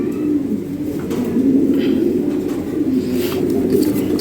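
Lahori Sherazi pigeons, a big and strong breed, coo in soft, continuous low murmurs, close and steady, with faint higher chirps scattered through and no talking.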